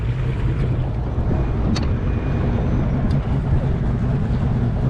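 A bass boat's outboard engine running steadily on the water, a continuous low rumble with wind buffeting the microphone throughout.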